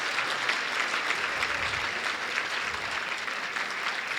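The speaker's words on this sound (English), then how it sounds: "Can we give a round of applause to Dr. Tiffany Brown and Dr. Anthony Ocampo?" Audience applause at a justice-themed keynote conversation, a continuous even roar of many hands clapping from across a hall, steady and unbroken with no talk over it.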